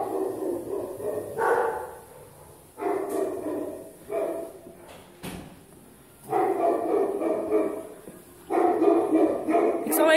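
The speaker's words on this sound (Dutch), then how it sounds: "Allemaal blaffende honden." Many dogs bark in bursts in a kennel corridor at an animal shelter in Gouda, loud and close, with brief quieter gaps between the waves of barking.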